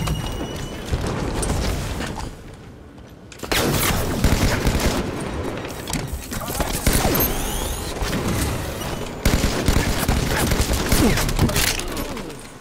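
Rapid bursts of beam rifle fire from a Halo match ring out in clustered volleys, loud and close, with brief pauses between strings of shots and clanking game mechanisms underneath.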